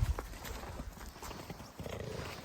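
A large horse moves close by, its hooves giving soft, irregular clopping thuds on the ground, with a heavier knock at the start.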